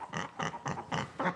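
A large pet pig named Crispy Bacon, raised from a day-old piglet, grunts five times in a steady rhythm, close and clear with no talking.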